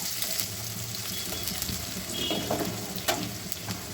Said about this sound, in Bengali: এখন পেঁয়াজটা দিয়ে পেঁয়াজ আর কাঁচামরিচ সুন্দর করে নেড়ে চেড়ে গুলাপি করে ভাজতে থাকবো